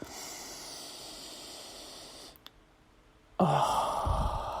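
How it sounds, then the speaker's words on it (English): A slow, deep breath drawn in through the nose, heard alone and close; a quiet hush gives way to a sudden, fuller rush of air near the end. "I can take better breaths and deep breaths through my nose"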